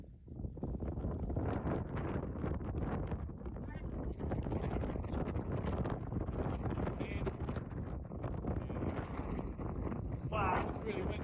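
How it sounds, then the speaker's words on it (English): Strong wind on an exposed mountain summit batters the microphone with loud, continuous broadband roaring and buffeting gusts for the whole stretch, with no talk heard above it. "Wow, it's really windy."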